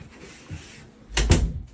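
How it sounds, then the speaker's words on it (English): A door closes with a short double thud, loud and close after a quiet pause, followed by a brief settling rattle. "If you're gonna come in here, close the door."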